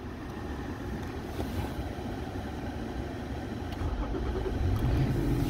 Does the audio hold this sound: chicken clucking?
no